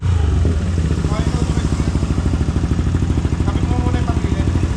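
A Yamaha Aerox 215cc scooter on the Carmona race track buzzes loudly and steadily, its engine pulsing fast and even close to the microphone.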